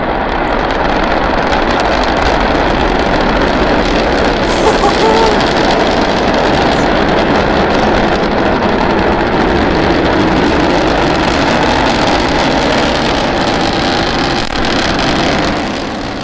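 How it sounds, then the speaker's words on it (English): SpaceX Starship SN9 prototype lifting off with all three Raptor rocket engines firing, a loud continuous broadband roar that fills the whole clip without letup and fades only slightly at the end. "All 3 Raptor engines at power."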